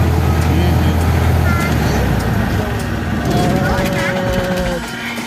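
An engine on a river boat runs with a loud, steady low rumble that continues throughout, while people talk over it.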